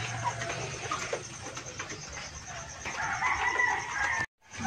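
Chickens cluck and a rooster crows indoors during rainy typhoon weather, close and busy over a steady background hum, with no talking.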